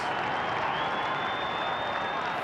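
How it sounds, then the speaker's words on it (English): Crowd at a 1995 AFL Australian rules football match between Fremantle and Sydney, roaring and applauding continuously after a goal, a broad dense cheer with a faint commentator voice underneath. "listen to the hoots of the crowd as Big Plucker comes in to have a shot"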